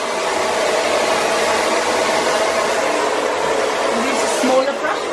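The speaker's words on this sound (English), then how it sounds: "I'm just blow drying it all forward." A hair dryer blows steadily and loudly while a bob haircut is dried forward with a big round brush, a constant close whoosh with slight shifts near the end.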